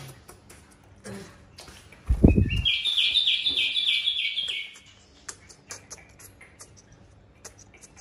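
A pet parrot kept in a head office gives a quick series of bright, rhythmic chirps for a couple of seconds, just after a low thump, with faint ticking and room noise around it.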